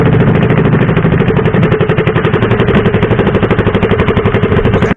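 A small fishing-boat engine at Bolinao, Pangasinan runs right up close after being started, with a loud, steady chugging clatter pulsing quickly and evenly throughout.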